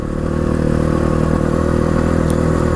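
A 300cc dirt bike climbs uphill on a rough dirt trail, its engine droning steadily and loudly close by, with a clattering edge running under the sustained motor tone throughout.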